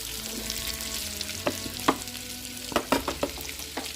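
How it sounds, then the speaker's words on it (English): Onions and mushrooms frying in bacon fat in a pan, a steady close sizzle broken by several sharp clatters and stirring scrapes, with no talk. "I'm going to cook my onions. Enough. And the mushrooms."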